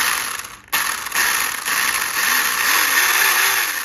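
An RC car's electric motor whirs under transmitter control, giving a close, steady mechanical buzz with gear chatter and brief rising and falling speed changes.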